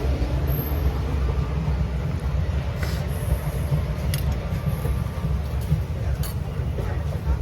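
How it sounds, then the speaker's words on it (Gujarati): A train at a station gives a loud, steady low rumble with faint metallic squeaks and knocks, continuous throughout. "તમારી ટ્રેન."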